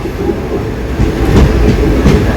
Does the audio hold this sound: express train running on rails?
yes